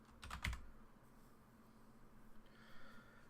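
Short burst of typing on a computer keyboard, a quick cluster of close, crisp key clicks at the start and then quiet room tone with faint shuffling.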